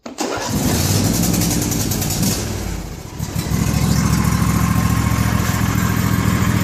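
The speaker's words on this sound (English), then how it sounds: "This is a 24 horse model. Let's start it up for you real quick." A John Deere 24-horsepower garden tractor engine cranks loudly for a few seconds, briefly dips, then catches and settles into a steady, close, rhythmic idle.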